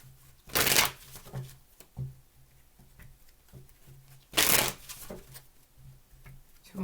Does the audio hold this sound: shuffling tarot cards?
yes